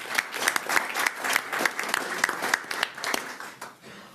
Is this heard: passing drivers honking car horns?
no